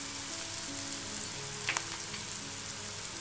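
Spices being stirred into a stuffed aubergine masala frying in a pan, giving a continuous close sizzle with a brief scrape of stirring midway.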